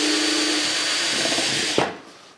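Festool C18 cordless drill driver in screwdriver mode at speed one, running in reverse to back out a screw: a steady, loud motor whine that holds for nearly two seconds, then a sharp release clunk as the screw comes free and the motor winds down.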